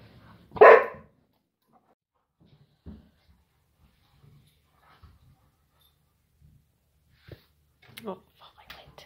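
Small pet dogs let out one loud bark, then softer scattered yips and noises around a quiet home, with a person talking between them.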